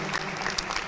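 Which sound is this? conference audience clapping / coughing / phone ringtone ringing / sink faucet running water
conference audience clapping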